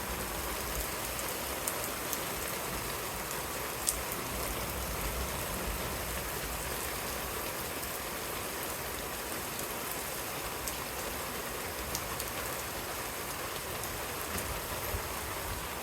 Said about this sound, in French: Il se met à pleuvoir de plus en plus fort